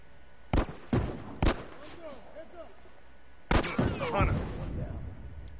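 Bombs blast in The Last of Us Remastered multiplayer: three sharp booms close together, a quieter stretch with faint chirping sounds, then two more heavy blasts that fade into a low rumble.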